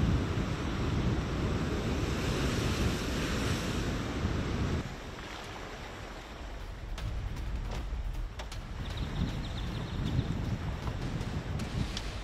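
Wind gusts hard across flooded ground in Texas after Storm Alberto, with heavy buffeting and rushing water noise that drops to a lighter steady roar partway through, with no talk.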